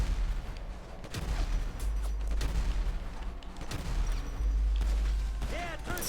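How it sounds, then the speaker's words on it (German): Rapid bursts of gunfire crackle through a GTA 5 shootout, loud and dense with heavy low booms rolling under the shots, and a voice talks between volleys. "Jetzt müssen wir hier auch noch mit dem Michael rumballern"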